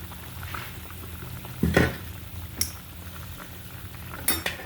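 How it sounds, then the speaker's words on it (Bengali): Vegetable and pangas fish curry bubbles in a covered pot: a soft, steady simmer broken by a few sharp clinks and scrapes, likely a lid or spoon against the metal pot, with no voices. "তরকারিটা বলক উঠে গেছে।"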